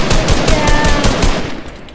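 A rapid burst of gunfire from a gun in Fortnite, loud and close, a quick string of shots fading out at the end.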